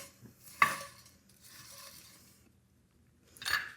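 Crispy glazed beef pieces stirred and scraped in a pan for a sticky beef salad, with a sharp clatter near the start, a softer stretch of stirring, and another scrape near the end.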